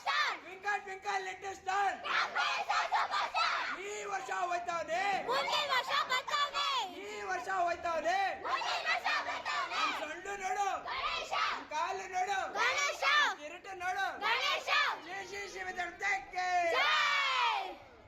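A crowd cheers and shouts praise to Ganesha at a neighbourhood Ganesha festival before the immersion, loud, overlapping voices rising and falling in repeated bursts, with a surging yell near the end.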